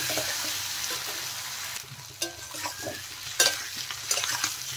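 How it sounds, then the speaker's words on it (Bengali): Potatoes and onions with turmeric and salt being stir-fried in a pan, a soft steady sizzle broken by scraping and clanking spatula strokes that grow louder toward the end. "ভালো করে ভেজে নেব এখন নেড়ে চেড়ে।"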